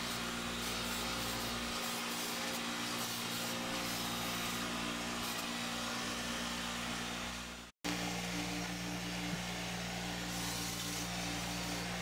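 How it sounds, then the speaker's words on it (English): A buffing machine polishes titanium dice with a steady, loud motor hum and whine. It runs continuously for the whole stretch and breaks off only once, briefly. "And just more and more buffing."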